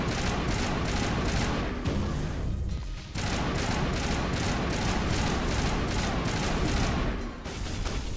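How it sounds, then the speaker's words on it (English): Assault rifle fire in the video game Mass Effect: loud, close bursts of automatic shots, broken by brief pauses, with no talking. "Let's use a assault rifle."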